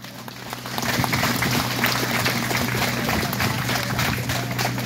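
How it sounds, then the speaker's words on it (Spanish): A crowd at a Virgen de Guadalupe celebration in Kerman, California gives a loud, sustained round of applause, a dense continuous roar of clapping that swells after the first second and holds steady. "les voy a pedir un fuerte aplauso para la Virgen de Guadalupe"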